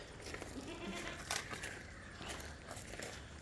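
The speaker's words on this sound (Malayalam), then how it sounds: "ആട്" A pregnant goat offered for sale near Manjeri bleats, a short wavering call near the start over faint background noise, followed by soft rustling.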